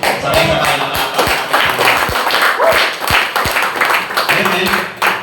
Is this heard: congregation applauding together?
yes